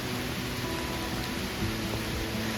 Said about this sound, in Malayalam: മഴ പെയ്തു തുടങ്ങിയതല്ലേ ഉള്ളൂ